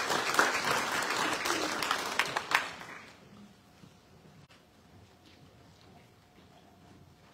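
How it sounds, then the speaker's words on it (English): A crowd at a local council election candidates' meeting claps loudly for a few seconds, then the applause fades quickly into a quiet, murmuring room. "Big round of applause for our next speaker and council candidate, Philip Babbage."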